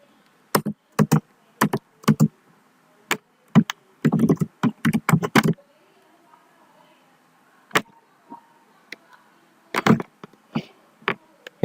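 Keys clatter on a computer keyboard in quick, close bursts of typing, with short pauses between clusters and a faint voice in the background.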